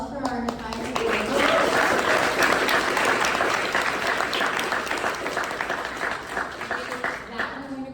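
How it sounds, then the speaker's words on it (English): Applause from an audience at an accelerator pitch day, dense clapping rising after a brief spoken line and continuing steadily for several seconds, with a speaker's voice faintly present under the clapping. "Can we have another round of applause for our entire team?"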